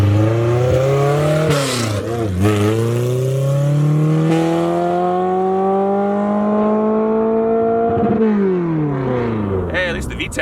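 A Honda K24/K20 all-motor race car engine revs hard through several climbing sweeps, the pitch rising sharply as VTEC engages, then drops and climbs again, loud and close throughout.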